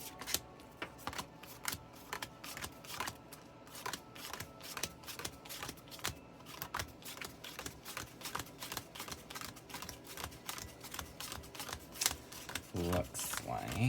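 Tarot cards being shuffled by hand, a rapid, continuous run of crisp close-up snaps and riffles, with a voice coming in briefly near the end.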